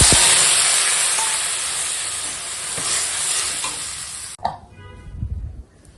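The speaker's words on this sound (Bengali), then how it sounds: "এখন দিয়ে দেবো জল" Soybeans frying in a pan give a loud, steady sizzle that cuts off sharply as water is poured in, leaving a quieter bubbling and spluttering to the end.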